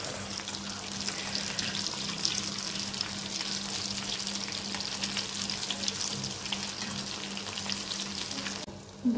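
Beetroot cutlets fry in a pan with a steady, close, moderately loud sizzle and crackle that runs without a break until it drops away near the end.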